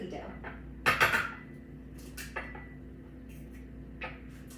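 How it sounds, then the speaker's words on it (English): An egg cracked against a separate bowl while making red velvet cookie dough, a brief burst of hard taps and clinks followed by a few fainter knocks of bowls and utensils in a quiet kitchen. "I like to crack my eggs into a separate bowl"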